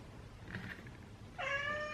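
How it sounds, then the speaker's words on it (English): A cat gives one short, clear meow near the end after a stretch of quiet room noise. The meow is faint and close. "Hello, Cat. I know you want to join in. Please excuse Cat"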